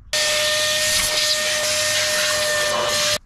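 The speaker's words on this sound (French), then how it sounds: "Donc je vais mettre un petit coup d'aspirateur et un coup de chiffon." Vacuum cleaner running around a car engine bay during a full service, a steady loud whooshing hiss with a faint tonal whine, starting abruptly and stopping about three seconds later, with no talk.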